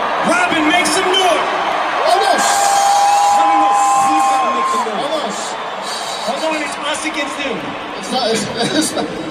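At a concert in Sydney, a fan dressed as Robin lets out a long, sustained yell over a noisy arena crowd, with an announcer talking loudly before and after.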